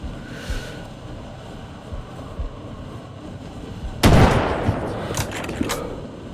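Mortar rounds firing in the shooter video game Sniper Ghost Warrior 3, a sudden heavy booming blast after a quiet stretch, followed by a rumbling tail and a few further distant thuds.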